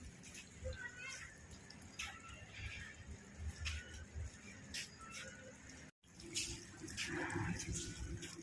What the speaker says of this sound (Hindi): मटका लेके वो बैठी है और उसके ऊपर पानी आ रहा है चारों तरफ से।